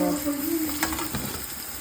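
Garlic paste and turmeric fry in hot oil in a pan for a chicken curry, giving a close, steady sizzle with some stirring throughout.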